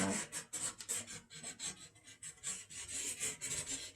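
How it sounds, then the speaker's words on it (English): Scraping out paint on an artwork makes quiet, close, rhythmic rasping strokes, a steady run of short scratchy passes of even loudness. "I want to play with doing a little bit of scraping out"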